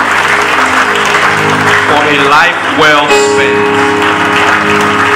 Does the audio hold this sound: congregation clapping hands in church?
yes